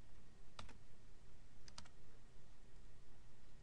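Two short bursts of rapid keystrokes on a computer keyboard while typing code, close and crisp against a steady low background hiss.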